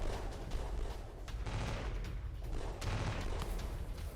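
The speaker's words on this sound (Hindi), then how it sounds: "आप देख रहे हैं, गाड़ी पे गोली चला रहा है, आमने सामने की जंग है, स्नाइपर्स डिप्लॉयड है।" Sustained gunfire from a sniper firing at a vehicle during a face-to-face armed clash, with dense, continuous crackling shots and booms at steady loudness throughout.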